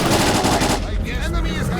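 Rapid automatic gunfire bursts out loudly in a S.T.A.L.K.E.R.: Clear Sky cutscene, a dense rattling stream that stops abruptly partway through, giving way to a brief shouted voice.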